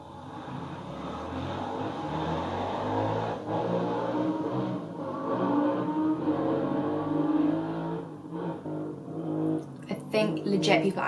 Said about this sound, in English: think legit people are actually racing outside my house, and that's so annoying